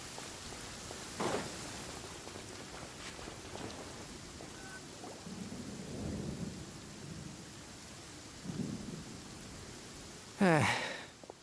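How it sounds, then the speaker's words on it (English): Thunder rolls through steady rain in the Genshin Impact video game, with a soft rumble early on and a sharp, loud crack near the end over the constant hiss of rainfall. "Lightning before the thunder, thunder."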